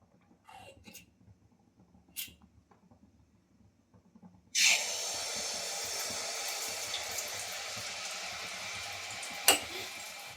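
Malpua batter dropped spoonful by spoonful into hot oil in a kadai, setting off a sudden loud, steady sizzling hiss after a few quiet seconds of faint clatter, the frying continuing unbroken to the end.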